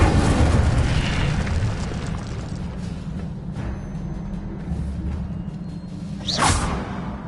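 The Incendio fire spell being cast in a Harry Potter video game: a dense, roaring rush of flame that continues for several seconds, ending with a brief swooshing burst.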